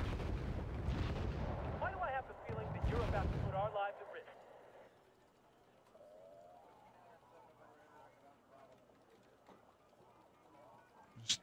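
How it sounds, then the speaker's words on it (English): Mortar artillery fire in the Wargame Red Dragon strategy game, with heavy booming bursts in the first few seconds under a talking voice, then a quieter low hum with faint distant thumps. "I'm just mortaring them to death."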